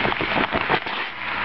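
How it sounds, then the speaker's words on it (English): Raw chicken pieces tipped from a bag into a pot of curry, a brief burst of patters and crackly thuds up close, fading to a soft steady hiss. "We're just going to dump it in."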